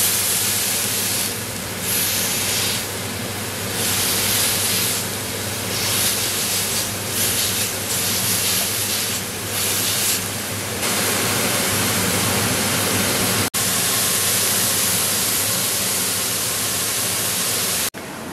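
Homemade burger patties sizzle loudly in a pan, a steady close hiss with brief crackling bursts throughout and no talking.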